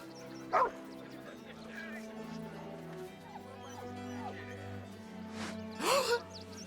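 A dog named Scratch in Baldur's Gate 3 gives a sharp bark near the start and a louder, longer bark burst near the end, over soft sustained game music and ambient tones.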